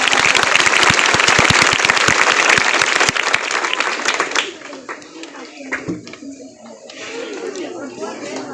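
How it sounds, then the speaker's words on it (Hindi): Loud applause from a crowd at a school memorial gathering for a fallen army captain, dense clapping for about three seconds that thins out, with scattered claps and faint background voices after. "जोरदार तालियों के साथ"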